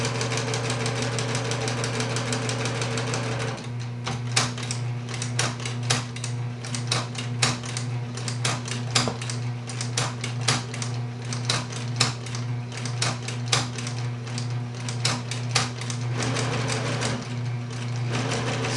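A Singer 6268 sewing machine stitches embroidery, its needle chattering in rapid, uneven bursts that speed up and slow down over a steady motor hum, close and clear with no talking.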